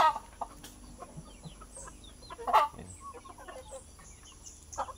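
Native chickens on a farm cluck softly in scattered bursts over quiet background hum, with a few louder clucks rising close by.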